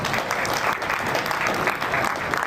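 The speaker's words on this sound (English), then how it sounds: "can we give them a round of applause?" Sustained audience applause after thanks to Government of Canada supporters, a steady dense clatter of many hands filling the whole stretch without pause or talk.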